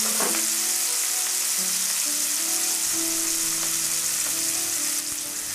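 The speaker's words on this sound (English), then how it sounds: "We're going to get the onions to cook for a few minutes." Onions sautéing in a pan, a steady close sizzle that holds even throughout, with faint low hum beneath and no voices.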